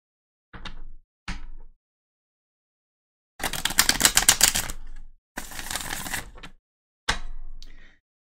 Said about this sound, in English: let's go ahead and give the cards a good shuffle